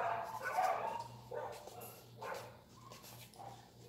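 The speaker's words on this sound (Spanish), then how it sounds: "Aquí mi vecina tiene 9 perros." Several dogs, from a neighbour's house holding nine of them, bark repeatedly in an irregular series of moderately loud, slightly distant woofs over a faint steady hum.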